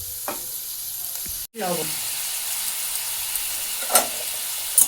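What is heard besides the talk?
spice paste sizzling while being stir-fried in a pan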